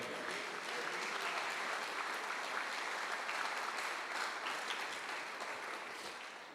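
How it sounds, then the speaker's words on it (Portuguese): A church congregation applauds in a sustained, even wash of clapping that holds steady for several seconds and then begins to taper off. "Aplauda ao Senhor."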